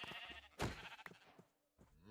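A Minecraft sheep bleats sharply once, then a shorter bleat follows after a brief pause, close and clear with game sound effects around it.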